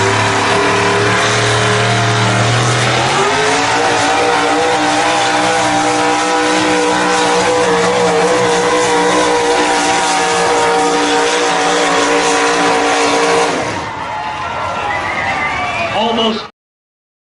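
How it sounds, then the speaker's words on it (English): A Dodge pulling truck at a truck pull roars at full throttle for about thirteen seconds, loud and sustained with rising pitch, then the engine note drops and fades before cutting off. "the first puller is Turlock, California, Sam Pitt. and it's going to be a Dodge"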